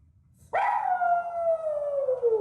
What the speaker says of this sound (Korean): 급기야 하울링까지 하는데요.